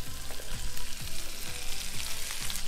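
A bacon-wrapped burrito stood on its side fries in a pan, giving a loud continuous close sizzle and crackle with intermittent pops and spatter throughout, no voices.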